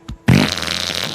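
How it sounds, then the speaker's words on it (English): A single fart, a short loud low buzzing burst that starts abruptly and trails off over about a second, alone with no talk. "I'm about to fart right now."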